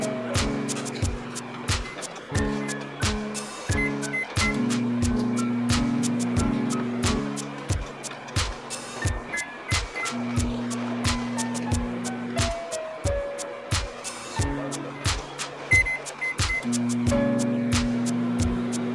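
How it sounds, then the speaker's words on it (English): A barcode label printer runs a print job, giving evenly spaced sharp clicks with short mechanical whirring tones between them, steady and close throughout. "Here you can see your barcode labels are printing."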